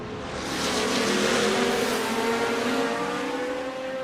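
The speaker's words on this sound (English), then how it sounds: "Rich Snape is absolutely flying down the Kemmel Straight." Race cars in the Assetto Corsa GT Legends series at Spa hurtle down the Kemmel Straight, close engines roaring with rising, overlapping tones, swelling quickly, holding loud, then easing slightly.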